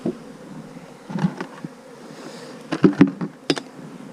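Honey bees buzzing around a hive in a bee yard, a soft steady hum with a few louder buzzing passes close by, no talking.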